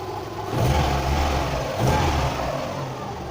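A car engine with its MAF sensor just reconnected runs steady and full, heard close and fairly loud, with two brief rises in revs.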